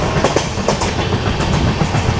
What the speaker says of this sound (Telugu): ఇప్పుడు తునిలో ఇంకో ట్రైన్ అయితే ఓవర్టేక్ చేయబోతున్నాము